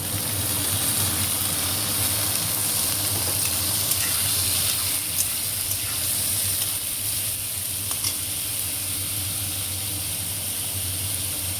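Potatoes go into a pan of hot oil with onions already frying for pulao, producing a continuous loud, close sizzle with faint hissing and occasional stirring scrapes, no voices.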